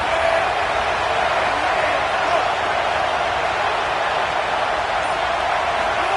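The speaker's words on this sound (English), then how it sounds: "This crowd rising up, sensing that its defense needs some help." A large football stadium crowd roars in a sustained, broad rumble of cheering as fans rise to rally their defense, steady and distant-sounding with no clear breaks.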